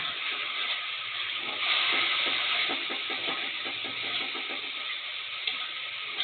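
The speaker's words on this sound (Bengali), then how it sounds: "এবার ভেজে রাখা আলু এবং সয়াবিনগুলো দিয়ে দেওয়া হচ্ছে।" Fried potatoes and soy chunks hit hot oil and sizzle loudly and steadily, a bright continuous hiss with faint stirring ticks throughout, close and without talk.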